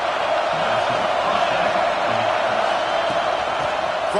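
Football stadium crowd at a UAB vs Georgia game roaring steadily and loudly throughout, a dense, unbroken wall of cheering with no clear gaps.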